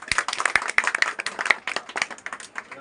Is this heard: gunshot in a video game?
no